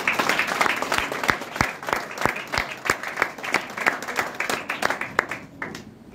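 A small audience claps after a music performance, with distinct, fairly rhythmic handclaps from a modest group, close and sustained for several seconds before tapering off.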